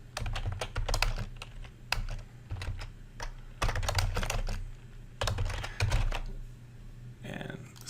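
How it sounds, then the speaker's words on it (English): Typing on a computer keyboard during note entry in office software: bursts of quick, close key clicks in irregular clusters, with someone talking softly over them. "I can just type in a note here."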